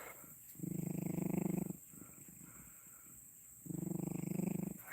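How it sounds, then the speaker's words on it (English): Low, rumbling purr of a cat at a cat sanctuary, heard close up in two long stretches, each rising and falling with the breath, a quiet pause between them. "Listen to her purr."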